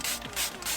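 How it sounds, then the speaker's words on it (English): Trigger spray bottle misting leather cleaner onto a car's leather seat, three short, bright hissing bursts in quick, even succession, close and fairly clear. "you want to start by spraying the product on the seat"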